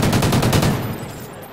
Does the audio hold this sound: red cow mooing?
no